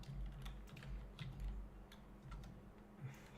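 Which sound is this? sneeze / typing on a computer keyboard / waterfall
typing on a computer keyboard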